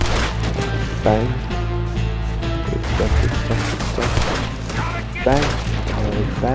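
Gunfire in Red Dead Redemption 2 rings out as repeated sharp shots and crashes amid game sound effects, with a voice talking over them.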